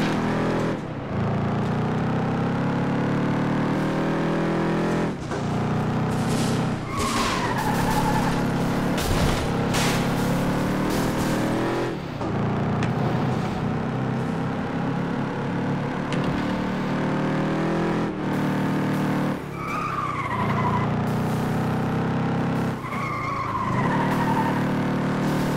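Lentos car racing through city streets in FlatOut 2, engine droning steadily with repeated tire skids and squeals, loud and continuous for the whole stretch.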